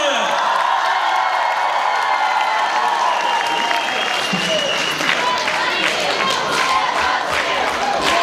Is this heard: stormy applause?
yes